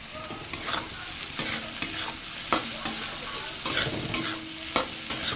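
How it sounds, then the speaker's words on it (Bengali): Potatoes and yardlong beans stir-fry in a pan, a steady sizzle broken by repeated scraping strokes of a spatula at a brisk, regular pace, up close. "আবার একটু নেড়ে চেড়ে নিচ্ছি।"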